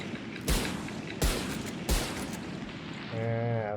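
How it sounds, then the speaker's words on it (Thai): Three loud, evenly spaced blasts from the Bucky shotgun in the Valorant video game, each with a short ringing tail, followed by a brief electronic tone. "ลูกซองอันนี้เหมือนกันลูกซองบักกี้ครับผม ก็ยิงต่อเนื่องได้นาน"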